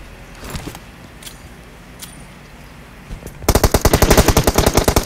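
Rapid automatic gunfire from the mobile battle royale game PUBG Mobile erupts in a loud, dense burst of repeated shots after a few seconds of quiet ambient game noise with faint scattered clicks.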